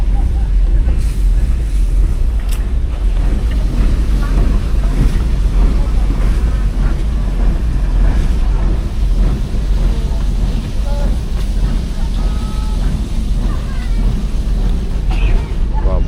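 Steady boat engine drone over open water at El Nido, Palawan, with wind buffeting the microphone and waves washing throughout; faint voices in the background.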